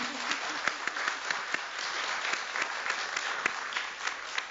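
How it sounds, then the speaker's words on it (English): An audience claps at an academic faculty spotlight event, a soft, steady round of applause heard from some distance, with sharper individual claps standing out now and then. "let's give them a round of applause"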